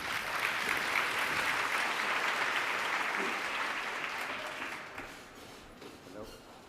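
Sustained audience applause greeting a speaker at a corporate diversity and inclusion event, loud and steady at first, then slowly tapering off toward the end.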